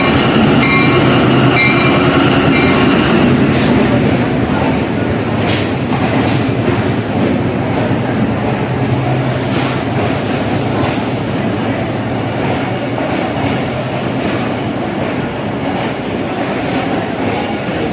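A Pakistan Railway Green Line train pulls into a station on the Rawalpindi to Karachi route, a loud steady rumble of wheels and carriages with rhythmic clatter and faint squeals throughout.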